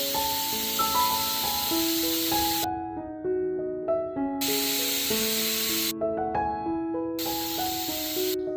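A pressure cooker whistling while cooking jackfruit, three loud hissing steam bursts separated by gaps, with soft music playing underneath throughout.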